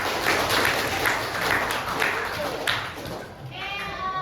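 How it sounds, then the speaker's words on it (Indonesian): Classroom pupils clapping together for everyone at the close of a school guidance lesson, a steady patter of hands that fades near the end as a voice speaks over it. "Tepuk tangan untuk kita semua"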